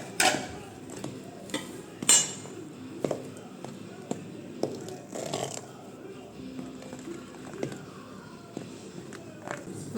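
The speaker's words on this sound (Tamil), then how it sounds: "சேர்த்து நல்லா மிக்ஸ் பண்ணுங்கள்" Custard flour and cornflour batter being mixed in a bowl for eggless pandan biscuits, with scattered clinks and taps of a utensil against the bowl at an uneven rhythm, close and moderately loud, with faint background noise.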